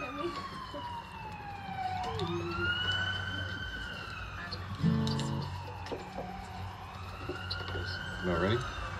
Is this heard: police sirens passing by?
yes